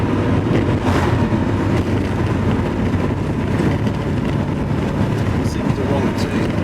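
A Porsche 928 engine drones steadily and loudly while the car is driven on the road and shifted into a higher gear, with a broad, continuous rumble and some road noise and a voice faintly over it.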